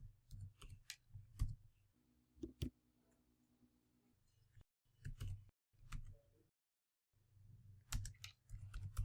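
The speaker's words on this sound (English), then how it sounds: "Type in the IP for your Puppet server machine." Typing on a computer keyboard while entering a server IP address, with irregular bursts of clicky keystrokes separated by short pauses, close and fairly quiet.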